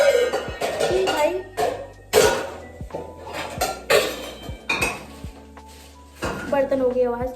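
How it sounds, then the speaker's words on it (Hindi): Pots, pans and utensils clatter in a home kitchen while chocolate-covered strawberries are made: a run of sharp metallic clanks and knocks at irregular intervals, loud and close, with a voice heard faintly in places. "बर्तन हो गई आवाज़"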